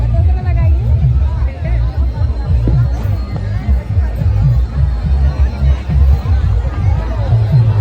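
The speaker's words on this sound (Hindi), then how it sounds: "बहुत भीड़ है गाइस, बहुत ज़्यादा भीड़ है।" A dense, loud crowd babble fills a riverside ghat during the Chhath Puja festival, with many overlapping voices and a low throbbing hum close around, continuing steadily throughout.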